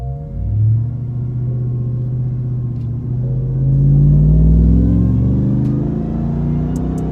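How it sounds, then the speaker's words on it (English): A Dodge Ram TRX pickup with a supercharged engine revs up, its deep rumble swelling and settling as the supercharger adds a higher whine; loud, close and steady for several seconds, with no talking. "Love the whine of that supercharger."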